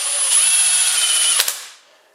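An impact wrench or power tool works an engine bolt during a head gasket job, giving a loud, steady high-pitched whirring burst of about one and a half seconds that cuts off with a clack and fades out.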